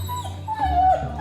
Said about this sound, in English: Are you barking, Arnold?